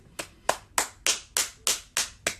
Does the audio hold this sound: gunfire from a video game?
no